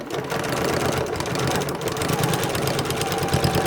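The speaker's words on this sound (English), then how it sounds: "I'm gonna sew right down. I'm gonna start here, and I'm gonna sew straight down there." A sewing machine runs steadily, stitching a straight seam through denim fabric, its motor humming with a fast even mechanical rhythm, close and continuous with a brief pause near the start.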